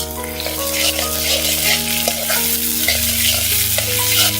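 Loud close frying and sizzling of chopped tomatoes in a pan, with stirring, over a steady low hum; no one speaks.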